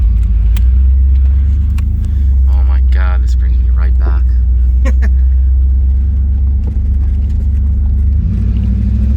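A steady, heavy rumble from a 1988 Pontiac Firebird Trans Am's 5.7L engine fills the interior throughout while a person talks excitedly over it.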